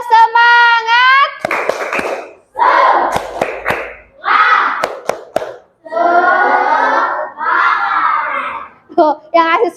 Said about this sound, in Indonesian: Untuk kelompok 1, tepuk semangat.